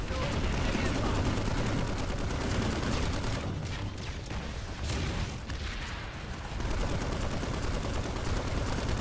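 Gunfire in the Planetside 2 video game, with dense continuous bursts of blanket fire from a carbine at an infantry group, loud and sustained throughout with little pause.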